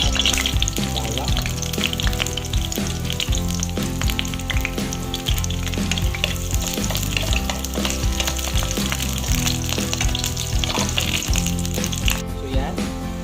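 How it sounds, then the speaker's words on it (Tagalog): Garlic sizzles in a small amount of corn oil in a pan for an Ilocano ginisang bataw dish, a loud, steady, dense frying hiss with crackle that runs the whole time. "minimum na yung ating corn oil. Lagyan na natin yung ating bawang."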